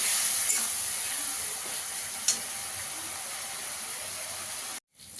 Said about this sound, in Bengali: জল দিয়ে দেবো, মশলাটা পুড়ে না যায়। ভালো করে মশলাটা কষিয়ে নেব।